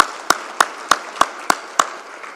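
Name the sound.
applause from the audience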